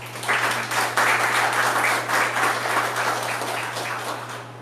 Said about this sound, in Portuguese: Um aplauso ao Senhor por isso.